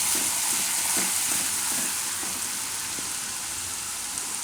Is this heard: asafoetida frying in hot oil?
yes